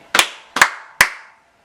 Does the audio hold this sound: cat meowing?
no